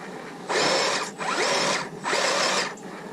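RC crawler on 4.45 Rock Beasts tires spinning during a sidehill test, three loud bursts of high motor whine and tire scrub each lasting under a second, close and alone.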